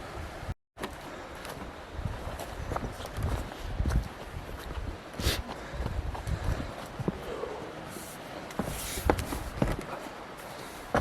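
Footsteps crunching and scuffing down a steep path on a walk through old mine workings in a river valley, uneven irregular steps close by with wind noise and a brief dropout near the start.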